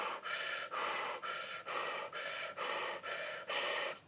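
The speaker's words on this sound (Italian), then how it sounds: "sai la respirazione che facciamo nello yoga sciamanico" Forceful circular breathing through the mouth, as practised in shamanic yoga: eight quick, rhythmic, even breaths in a steady pulse, close and raspy, with no talking.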